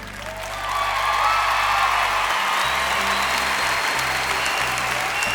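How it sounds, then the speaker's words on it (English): A huge concert crowd roars and applauds as a performer walks onstage, the sustained cheering and clapping swelling within the first second and then holding loud and dense. "The roar of the crowd when she walks out."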